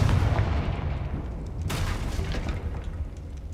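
A Confringo spell detonating in the Hogwarts Legacy video game, a heavy booming blast at the start followed by a second sharp burst and a rumbling decay, loud and close, with no talking.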